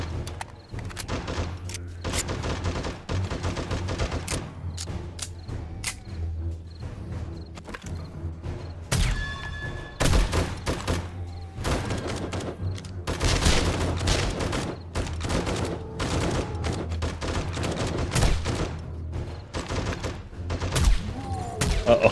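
Sniper rifle shots in a zombie video game ring out as repeated sharp, loud bangs at irregular intervals, with dense bursts of gunfire clustered in the middle and later stretches.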